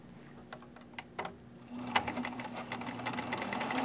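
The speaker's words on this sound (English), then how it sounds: "You line up your machine on the 5/8 inch mark with the seam allowance lined up with the 5, and just start sewing." A sewing machine stitching a seam at a 5/8 inch seam allowance, starting with a few soft clicks and then running in a steady, fast, close mechanical rattle at low volume.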